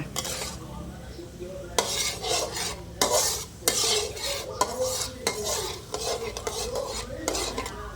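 A thick sauce simmers in a pan while it is stirred with a utensil, producing repeated scraping and stirring strokes that rise and fall over a low bubbling sizzle, with no talk.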